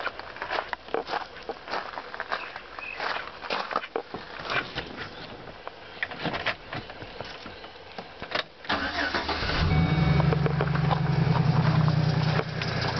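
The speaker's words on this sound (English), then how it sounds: "let me start the engine and then I'll do some more talking after this test." A car engine cranks and catches during a battery and alternator charging test, then settles into a loud, steady idle after several seconds of rattling and handling noise up close.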